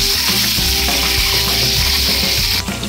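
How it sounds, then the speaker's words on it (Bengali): Eggs frying in oil in a pan for egg biryani, a loud, steady sizzle filling the whole stretch, with clinks of a utensil scraping and stirring, and no talking. "আর এবার এই তেলটাতে একটু হালকা করে ডিমগুলো আমি ভেজে নেব।"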